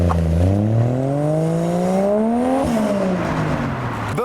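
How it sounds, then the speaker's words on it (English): TVR sports car driving past outside Ace Café, its engine note rising as it approaches, then dropping sharply as it passes and fades away, loud and close with no talk over it. "there goes the TVR"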